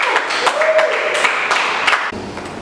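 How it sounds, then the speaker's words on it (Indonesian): A high school class claps for two poetry finalists, a short burst of scattered, uneven clapping with voices mixed in over a noisy classroom. "Tepuk tangan dulu untuk Vanessa sama si Nadia."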